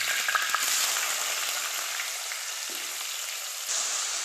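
Chopped onions with fennel seeds and curry leaves frying in a pan, a steady close sizzle and crackle that continues evenly throughout, with a few faint stirring clicks.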